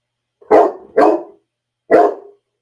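A pet dog indoors barks three times close and loud, two quick barks then a third after a pause, with no other sound around them.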